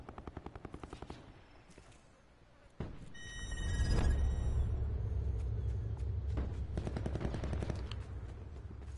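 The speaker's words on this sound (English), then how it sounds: "there's shots from all around you" Gunfire crackling from all around in a battle royale video game, with rapid bursts of automatic fire and a deep rumbling engine-like drone underneath, dense and continuous with no talk.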